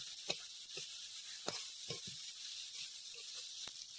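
Okra stir-frying in a pan with spiced masala and curd gives a steady, soft sizzle with a few scattered clicks and scrapes from stirring, fairly quiet and without talk.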